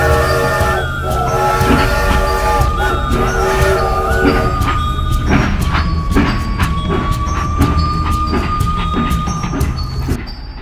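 A speeding train runs along its tracks, a loud, continuous rumbling roar with rhythmic wheel clatter and a steady high tone riding on top, close by and sustained throughout.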